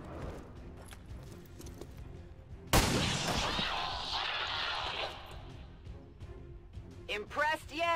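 A pistol shot in the video game XCOM 2 lands as a sharp, loud burst with a brief noisy tail, set among game sounds and someone talking over the action.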